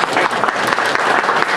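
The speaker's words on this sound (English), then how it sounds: "Yeah, how about an applause" Applause from an audience at an entrepreneur showcase event, a loud, dense patter of many hands clapping steadily through the short moment.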